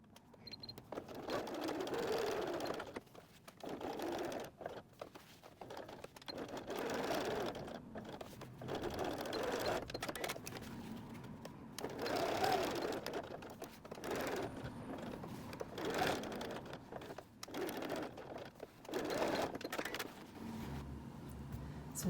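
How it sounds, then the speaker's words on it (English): A sewing machine stitches messenger bag pieces in a long series of short, rhythmic whirring bursts, quiet and fairly close, with pauses and handling sounds between runs. "Now we'll go stitch those pieces down"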